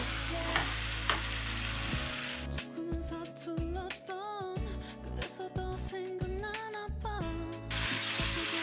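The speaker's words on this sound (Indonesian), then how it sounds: "Tambahkan tadi tomatnya yang sudah kita blender." Blended tomatoes sizzle steadily as they are sautéed in used cooking oil for balado chili sauce, with stirring clatters and scraping breaking through the continuous frying hiss.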